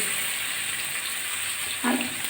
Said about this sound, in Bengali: বেগুনগুলো আমি আলুর সঙ্গে ভালো করে ভেজে নিচ্ছি